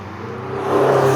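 A supercar engine's whir rises quickly into a loud, building rev, close by and brief, at a supercar event.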